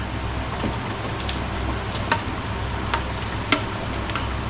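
Soft bubbling and sizzling of simmering strawberry jam with gentle stirring of the foam, a few sharp clicks of a spoon against the pan standing out.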